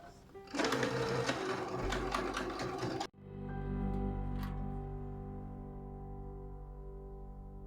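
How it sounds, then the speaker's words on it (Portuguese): A domestic sewing machine stitching white thread through fabric for a cushion cover runs loud and steady for a few seconds, stops abruptly, and a lingering mechanical hum fades out afterward. "Vou costurar a linha branca para que seja mais fácil e mais perceptível"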